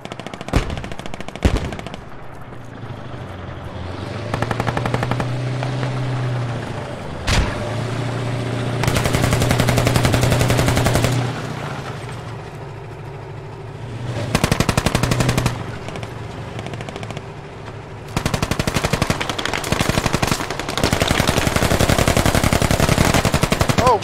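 In the military shooter game Squad, loud automatic rifle and machine-gun fire rips out in long sustained bursts, broken by single sharp shots and short pauses between volleys.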